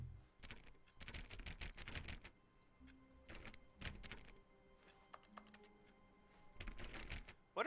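Keys clack on an office keyboard in The Stanley Parable: Ultra Deluxe, coming in a few quiet, irregular bursts with pauses between them, fairly faint against a low room hum.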